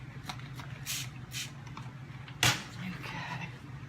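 A handheld spray bottle of water gives several short hissing bursts at irregular intervals, with one sharper, louder spritz midway, over faint room noise and light handling sounds during a dry brushing job on a drum table.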